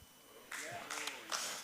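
Audience applause, a brief burst of clapping that swells in two waves, fairly faint and distant, following a man's speech.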